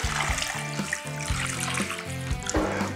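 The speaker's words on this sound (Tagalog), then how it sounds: "Tubig!" Water pours steadily into a cooking pot holding cleaned pork hock for Filipino kare-kare. The rushing flow runs continuously at moderate volume, with a low steady tonal hum underneath.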